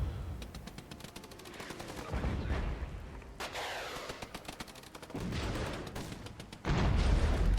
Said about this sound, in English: I can't tell whose mortars those are coming in.